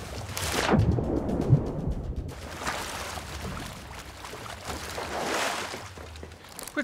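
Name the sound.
cannon shot fired from a ship in Sea of Thieves video game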